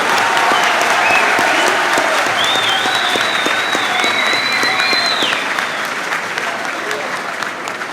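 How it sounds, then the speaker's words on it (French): An audience at a political speech bursts into sustained, loud applause with dense rapid clapping and some crowd cheering, tapering slightly toward the end. "Acclamons-les!"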